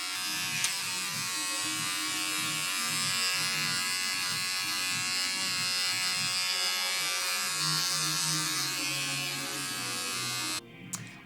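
An electric facial cleansing brush buzzes steadily on facial skin during a morning skincare routine. The close, continuous motorized hum lasts several seconds with slight wavering as it moves, then cuts off abruptly near the end.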